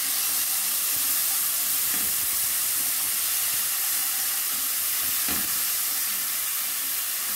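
Onion and two garlic cloves frying for an egg farofa, a dense, constant hissing sizzle close by with a couple of soft stirring knocks and no speech.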